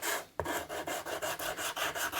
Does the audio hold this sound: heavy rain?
no